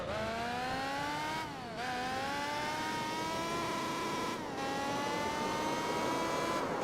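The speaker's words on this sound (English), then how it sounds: "There's a bit of an engine, there's modded engine sounds in this randomizer" A modded car engine in the Gran Turismo 4 video game revs continuously, its pitch climbing through the gears, with two brief dips at gear changes, loud and alone.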